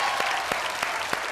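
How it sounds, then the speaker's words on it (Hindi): A live Hindi stand-up comedy audience breaks into steady applause, a dense wash of many hands with a few louder claps standing out. "ऐसी परफॉर्मेंस को मिलनी चाहिए जोरदार तालियां।"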